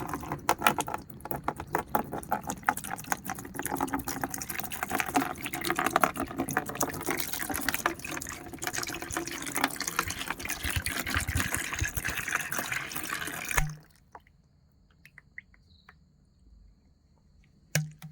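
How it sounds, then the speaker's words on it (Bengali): Water poured into a container to mix an onion seed treatment solution of fungicide powders, a steady splashing pour running close and continuous for most of the clip before stopping abruptly into near silence. "এখন এক লিটার পানি আমি এখানে মিশাবো"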